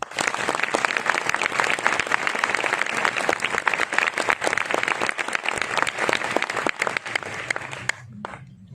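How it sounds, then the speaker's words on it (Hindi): Dense, sustained applause from a meeting audience welcoming a guest, loud and continuous for about eight seconds before it abruptly stops. "थोड़ी मीठी मीठी तालियों से स्वागत कर देना।"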